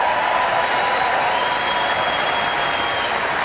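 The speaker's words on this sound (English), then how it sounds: "And there they are cheering themselves." Steady, loud applause and cheering from a large crowd in the chamber as women members of Congress are recognized, continuous clapping with no breaks throughout.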